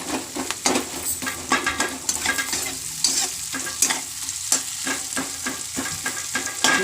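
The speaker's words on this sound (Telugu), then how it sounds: "అల్లం వెల్లుల్లి పేస్ట్ వేసుకుందాం." Ginger garlic paste sizzles loudly in a pan of fried onions while being stirred for an egg pulusu, a close, steady crackling fry with repeated scraping strokes throughout.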